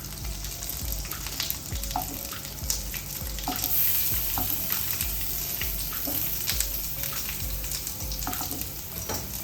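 Garlic cloves and ginger sizzle and fry in a hot pan, a steady crackling hiss with occasional sharper pops and stirring scrapes throughout, close up with no talking.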